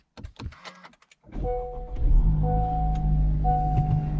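A Honda Civic Type R FL5 fires up from its push-button start: brief clicks and thumps, then the engine catches and settles into a loud, steady idle with a low rumble and faint whine.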